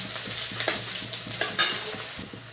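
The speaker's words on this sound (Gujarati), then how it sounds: "હવે મિક્સ કરી નાખી થોડી વાર પાકવા દઈએ બરાબર" Sweet corn chevdo is stirred in a hot pan, a continuous frying sizzle broken by repeated spoon scrapes and clinks against the pan, close and clear with no speech.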